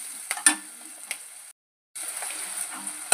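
Onions and coriander fry in a pan for egg curry, giving a steady soft sizzle with light stirring clicks and scrapes, broken by a short silent gap partway through.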